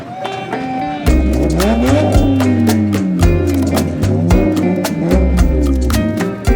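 A cross car engine revs hard and unevenly during a burnout, loud and close, with pulsing low throttle bursts and rising, falling pitch sweeps over several seconds.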